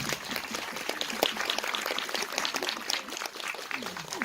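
Film festival audience at a Busan screening Q&A clapping for an award-winning actor, a lively, uneven patter of many hands with sharp individual claps standing out, mixed with faint crowd murmur.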